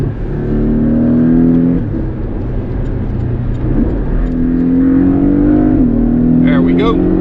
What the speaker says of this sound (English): Nice little crackle from that exhaust.